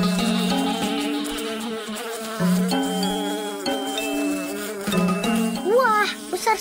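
Cartoon bees buzz loudly and close around a mango tree, their droning tones wavering and shifting pitch as they fly around, with a few higher whines near the end.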